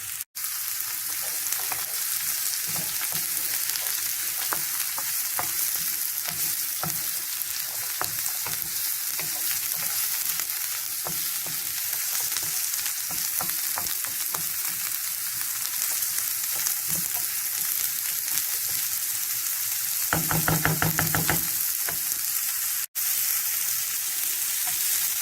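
Carrots frying in a pan for a stuffed potimarron squash recipe give off a steady, close sizzle for a long stretch, with occasional stirring clicks and a short stronger clatter near the end.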